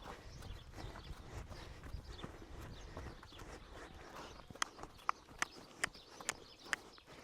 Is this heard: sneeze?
no